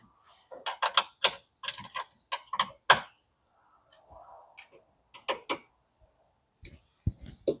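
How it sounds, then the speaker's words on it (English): A turret press indexing mechanism clicks as its index ball drops into place, giving a series of sharp, close, irregular mechanical clicks and ticks with brief pauses between bursts. "So now you can hear the index ball going in there."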